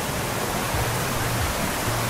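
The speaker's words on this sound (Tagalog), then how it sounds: "Tinoyan Falls" Tinuy-an Falls in Bislig, Surigao del Sur, pours in a steady, dense roar of rushing water, loud and unbroken, with no voices over it.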